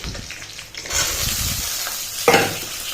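Onion and cumin tempering hitting hot oil in a home kitchen, a close, steady sizzle with brief stirring sounds and a sharper crackle near the end.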